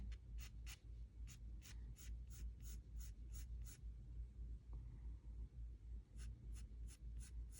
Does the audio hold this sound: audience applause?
no